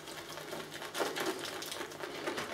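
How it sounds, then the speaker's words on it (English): A wet shaving brush swirling and scrubbing on Barrister and Mann Excelsior-base soap, a steady close rhythmic brushing and squelching that builds slightly midway, with no voices. "let's go to the soap and stuff and start lathering"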